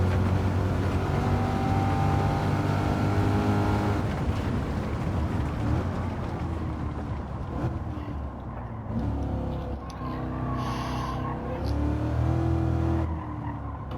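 A Chevrolet C8 Corvette race car lapping in Gran Turismo 7, its engine roaring steadily and shifting pitch, with tire squeal and skidding as it corners, loud and close for the whole stretch.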